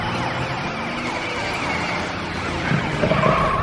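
A police car siren wails, rising and falling repeatedly over traffic noise, loud and fairly close, with a sharper burst near the end.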